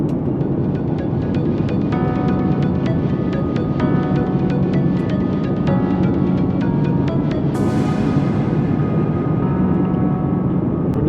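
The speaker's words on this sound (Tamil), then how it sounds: "யூட்டன் அடிக்குது பாருங்க ஃப்ளைட்டு, தெரியுதுங்களா?" Steady broadband roar of a passenger jet cabin during a flight from the USA to Canada as the plane turns on approach, a constant loud drone with faint ticking clicks throughout.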